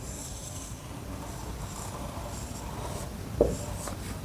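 Pen strokes sketching a glomerulus diagram by hand, a faint continuous scratchy rubbing on paper with one small tap near the end, close and quiet with no voice.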